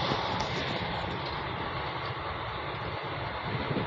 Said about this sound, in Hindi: ICF की ट्रैक साउंड ऐसी आएगी अच्छे अच्छे बंदे को नींद आ जाए